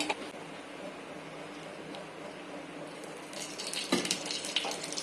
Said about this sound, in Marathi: मी 1 वाटी शेवया घेतल्यात, ते नुसत्या भाजून घेणार आहोत